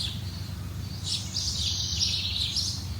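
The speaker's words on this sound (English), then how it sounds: "what's nice is listen to the birds." Birds chirp and sing steadily among big trees at a campground, the calls bright and fairly close over a low, constant hum that runs the whole time.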